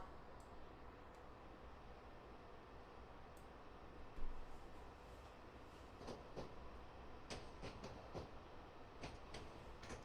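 A train in a Train Sim video game reverses slowly along Great Western Main Line rails, a low rumbling hum with faint scattered clicks and rail knocks, quiet and steady with one brief louder bump.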